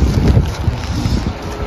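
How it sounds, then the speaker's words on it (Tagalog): Strong wind with light drizzle buffets the microphone with low, rumbling gusts, loud and close throughout, in Smoky Lake, Alberta, Canada. "Lakas ang hangin."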